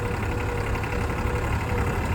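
A New Holland 4x4 tractor engine runs steadily at idle on a dusty Ladakh road, a continuous low rumble with faint knocking texture, close and moderately loud with no talk.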